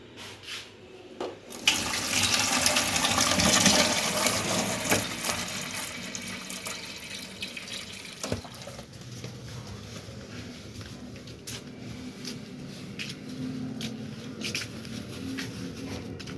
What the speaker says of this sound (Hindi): इसको जी उतारती हूँ, पानी ठंडा डालती हूँ इसके अंदर।